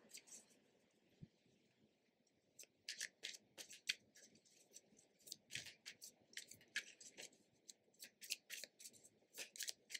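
Playing cards being handled and drawn for a tarot-style reading: repeated crisp flicks, snaps and shuffling rustles in irregular bursts, close and fairly soft, with no talking.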